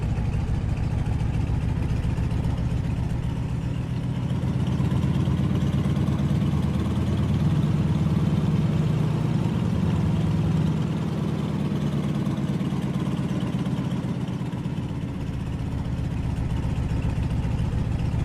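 A Stearman biplane's piston engine rumbles steadily at low power while taxiing in the Microsoft Flight video game, a constant loud drone with slight swells in throttle and no voices.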